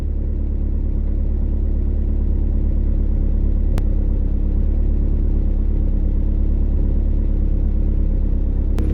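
A steady, low engine rumble from inside a moving car, constant and droning, without any sharp rise in pitch.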